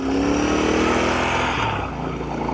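A brand-new Royal Enfield Bear 650 motorcycle ridden gently, its engine droning loud and steady up close and rising slightly in pitch before easing off.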